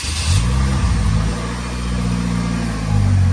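A 2015 Polaris Slingshot cranks over on a cold start, catching and settling into a loud, steady, close engine idle that swells again near the end.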